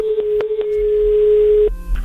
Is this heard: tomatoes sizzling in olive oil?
no